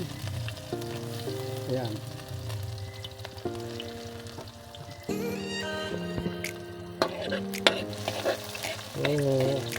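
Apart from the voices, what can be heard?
cooking oil frying in pan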